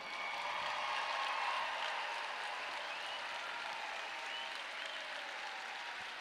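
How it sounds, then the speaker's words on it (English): Sustained applause from a graduation ceremony crowd for law school graduates, a broad, even roar of many hands clapping heard at a distance in a large hall. "one big round of applause for all of our OU graduates"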